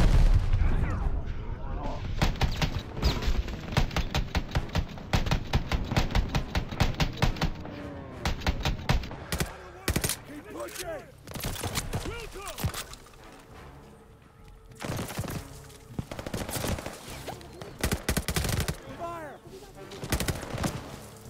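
Dense gunfire and artillery from Call of Duty: Vanguard rattle in rapid bursts and heavy booming blasts, loud and close, with shouting voices mixed in among the shots.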